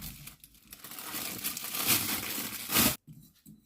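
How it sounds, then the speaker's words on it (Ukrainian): Loud crinkling of a clear cellophane bag while packing cucumbers, rustling continuously up close, then a sharp stop followed by a softer crackle. "Тепер закладаємо у целофановий пакетик, такий е, бажано прозорий."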